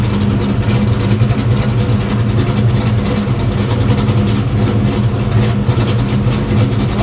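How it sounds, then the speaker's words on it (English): Ford Foxbody Mustang engine idling on a tuned setup, a constant loud low-pitched rumble with the idle settling slightly as revs come down, close to the car and free of talk. "See how the idle slows down a little bit in its descent?"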